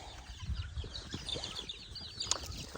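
Chickens near a rural farm field cluck and flap their wings close by, with short bursts of wingbeats and scattered clucks over low background noise.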